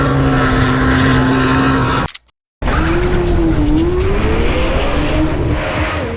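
A Lamborghini Temerario with a high-revving engine reaching up to 10,000 RPM is driven hard. It gives a loud, sustained rising wail that cuts out briefly, then returns climbing and falling through the gears, close and intense.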